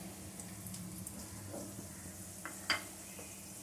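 Potato pieces fry in hot oil with a low, steady sizzle, joined by a few soft clinks and one sharp tap near the end; no one speaks.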